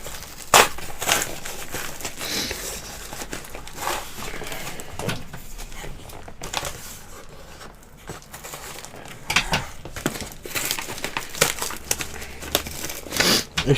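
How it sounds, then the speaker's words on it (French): Crinkling plastic and paper packaging is torn and peeled from a Back to the Future collectible, with close, loud rustles and crackles in uneven bursts throughout. "Donc on est parti pour le déballage."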